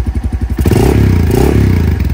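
A 2002 Honda Phantom motorcycle with its original exhaust thumps at a steady idle, then is throttled up into a loud, sustained rev close by before easing back toward idle.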